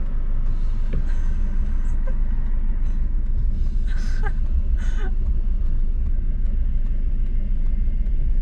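Steady low engine rumble fills a car cabin while it is driving, loud and constant throughout, with a few faint higher clicks and tones over the drone and no talk.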